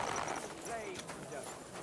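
Horse hooves clip-clopping in the medieval video game Kingdom Come: Deliverance II, soft rhythmic steps under game speech.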